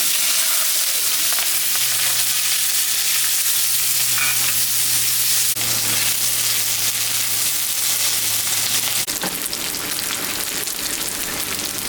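Green chilli, onion and tomato stir-fried in hot oil for a fish roe curry, a loud continuous sizzle up close with scraping stirs and a low steady hum underneath, no voices.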